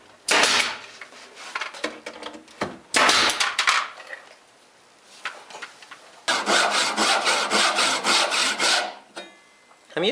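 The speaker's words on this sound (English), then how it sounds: "I'm using my little dovetail saw to cut some hardwood runners to go in the stop block." A small dovetail saw cuts hardwood runners for a workshop cabinet stop block, giving bursts of close, raspy back-and-forth strokes separated by short pauses, with a longer, steady run of quick strokes toward the end.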